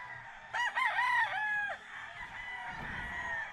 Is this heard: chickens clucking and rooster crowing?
yes